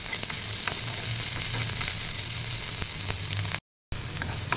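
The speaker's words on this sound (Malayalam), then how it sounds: "അടുത്തത് സിംല മിർച്ചിയാണ്. ഇതും അതുപോലെ ക്യാരറ്റിൻ്റെ കൂട്ട് ചെറുതായിട്ടൊന്ന് വാടി വന്നാൽ മതി" Diced capsicum and carrot sauté in a pan for an egg biryani, giving a steady, close sizzle and crackle with occasional stirring scrapes. It runs unbroken apart from a brief silent gap near the end.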